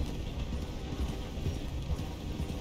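Horse hooves clip-clop steadily in Red Dead Redemption 2, a dense, continuous low trotting patter at moderate volume with no voices over it.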